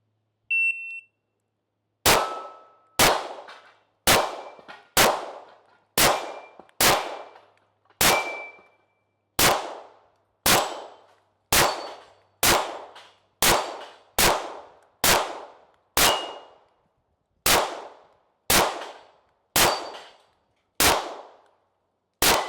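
Pistol shots from a Phoenix Trinity LO PRO ring on steel targets, about twenty loud sharp cracks, each followed by a metallic clang, fired in a steady, fairly quick cadence with brief pauses.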